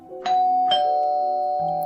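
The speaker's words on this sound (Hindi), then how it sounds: "पिंकी सिलाई का काम कर रही थी कि अचानक डोरबेल बजी।" A loud electronic doorbell chimes in a few clear ringing tones that sustain and fade, with nothing else heard.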